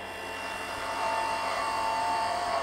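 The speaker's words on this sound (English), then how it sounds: "I'm going to come in with a bowl gouge" A wood lathe turns a tailstock handle for a mini or midi lathe while a bowl gouge cuts, giving a steady, whining hum that grows slightly louder partway through, with no talking.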